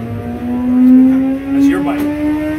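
A motorcycle revving on a dynamometer during a 2018 dyno shootout at a motorcycle shop: a loud, sustained engine drone that swells, dips briefly and swells again, with people talking nearby over it.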